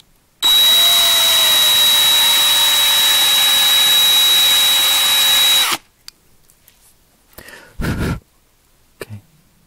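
A power drill drilling thin metal on a 1/64-scale model car whines at a steady high pitch for about five seconds and then cuts off, followed by faint clicks and a brief rustle.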